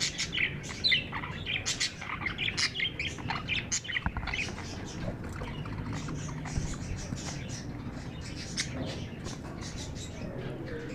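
Several budgies chirp and tweet in a breeding setup while passing seed to one another, giving a busy stream of high, quick calls with soft rustling and pattering close by throughout.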